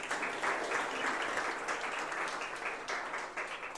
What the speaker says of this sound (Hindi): तो उस बच्चे के लिए जोरदार तालियां।